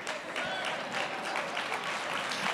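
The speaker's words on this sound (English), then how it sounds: "That's a weak clap." Scattered audience applause during a motivational church sermon, a thin, light patter of claps that stays fairly steady and never swells into a loud ovation.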